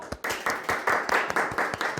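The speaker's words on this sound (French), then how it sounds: "Merci de bien vouloir applaudir Léa" A small audience claps for a contestant on a French game show. The claps are distinct and rhythmic, quite close, and last about two seconds with no talk.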